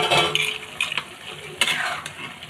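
Dried lentil dumplings stirred into a simmering bottle gourd curry in a pot, with brief scraping and clinking strokes of a spoon over a soft bubbling sizzle.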